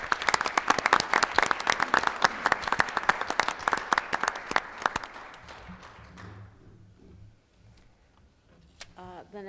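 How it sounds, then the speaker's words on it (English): Applause from a school board meeting audience, many hands clapping in a dense, sustained burst for about five seconds before fading to scattered claps and low room murmur, with a brief voice near the end. "I think it's only appropriate if we give Mr. Balmer and especially the students and the staff a big round of applause one more time"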